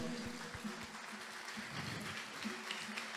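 A crowd claps steadily for a few seconds, dense overlapping applause heard from a distance in a large room.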